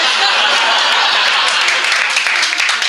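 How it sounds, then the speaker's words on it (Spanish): A canned applause sound effect plays loud and steady, a dense wash of many clapping hands with faint chuckles mixed in, like a sitcom laugh track. "como no estaba seguro de si me ibas a aplaudir, pues yo me puse los aplausos"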